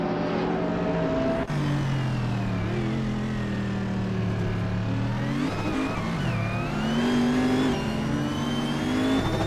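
Race cars including a 2013 Audi RS4 Avant Quattro accelerate hard off the start at the Daimler test track, engines revving loud and close with rising pitch sweeps, several cars overlapping in a continuous roar.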